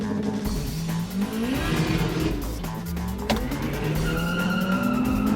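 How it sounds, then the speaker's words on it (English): A drag-race opponent's car does a burnout with heavy wheel spin, loud tire squeal rising and falling in pitch over a steady engine roar for several seconds, close and continuous with no talk. "Decent burnout."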